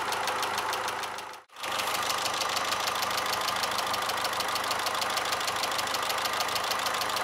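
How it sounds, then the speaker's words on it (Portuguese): A 2006 Fiat Stilo Schumacher engine idles loudly nearby with a harsh, whirring bearing rattle from the belt area and a steady knocking rhythm, briefly dropping out before resuming. "um ruído bem alto de rolamento vindo ali da parte de correia também."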